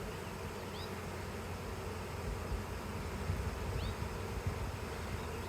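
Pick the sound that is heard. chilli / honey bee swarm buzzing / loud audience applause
honey bee swarm buzzing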